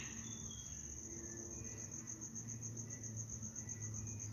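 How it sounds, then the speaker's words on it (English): A cricket chirps in a steady, high, rapid trill that carries through the whole stretch, faint against a low rumbling outdoor backdrop. "The cricket's still there."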